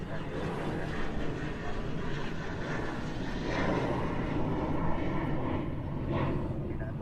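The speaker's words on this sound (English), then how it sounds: "We have a nice big triple here getting ready for departure." A Boeing 777 airliner prepares for departure at Honolulu airport, its engines giving a steady, moderately distant roar that swells slightly midway, with no talk over it.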